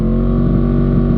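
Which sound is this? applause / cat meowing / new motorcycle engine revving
new motorcycle engine revving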